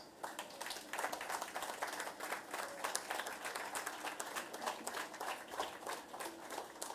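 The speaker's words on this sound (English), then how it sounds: "let us give them a round of applause" A crowd applauds steadily at a university campus launch ceremony, many hands clapping in a dense, sustained patter heard from a distance.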